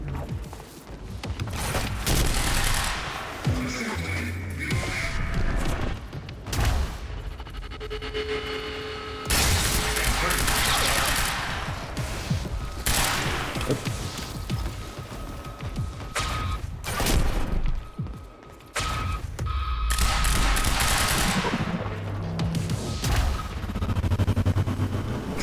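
Gunfire in the Quantum Break video game, dense shots, booms and impacts packed into a loud, almost unbroken stretch of action with heavy thuds scattered throughout.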